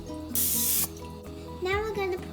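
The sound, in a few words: spraying cooking oil into a pan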